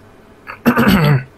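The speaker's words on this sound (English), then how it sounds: "that's just me clearing my throat" A short, close throat clearing: a quick rough rasp after a faint breath, lasting under a second.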